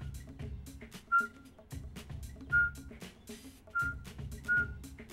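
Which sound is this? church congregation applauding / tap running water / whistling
whistling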